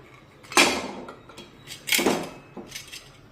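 A whistle and rubber ring come off a pressure cooker lid in a kitchen, giving two clear metallic clicks and knocks followed by a fainter rattle.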